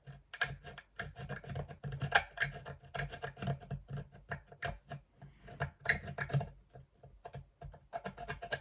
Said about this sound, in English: Let me get my tweezers, see if I can scrape some of this off.